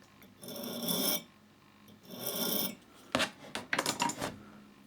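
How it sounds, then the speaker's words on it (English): A metal file gently works a burr off a fishing hook, giving two slow rasping strokes followed by a quick cluster of shorter scrapes, all quiet and close. "Now I can take that off with a file, just very gently."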